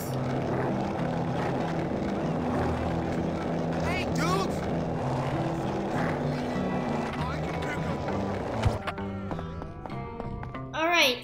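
A go-kart engine from the game Bully Scholarship Edition drones with a steady buzzing hum, shifting in pitch as the kart moves. A person talks over much of it.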